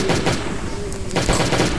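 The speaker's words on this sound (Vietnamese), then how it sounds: "Các bạn phải dùng cái súng đặc biệt này, súng xuyên giáp này" Armor-piercing gun fired in the Last Day on Earth survival game's laboratory level, rapid loud gunshots in a dense burst with a brief tonal whine, close and continuous over the short span.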